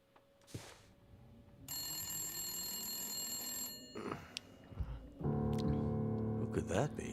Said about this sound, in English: Who could that be? A phone.